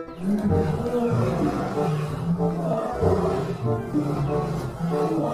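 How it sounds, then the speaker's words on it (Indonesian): Lion roaring in an animal-washing video game, a loud rumbling growl with repeated low pulses, while someone talks over it. "ternyata ini seekor singa"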